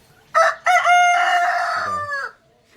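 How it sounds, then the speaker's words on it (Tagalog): A Rhode Island DeKalb Brown rooster crows once, loud and close, a long harmonic call rising then trailing off, with no talking. "Yan yung ating mga rooster na ito po ay balik ina"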